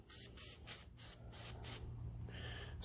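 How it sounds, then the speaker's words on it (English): Aerosol spray can held upside down and sprayed in about five short, sharp hissing bursts, then a softer, faint hiss trailing off, close and quiet. "spray them 3 or 4 times until it's clear"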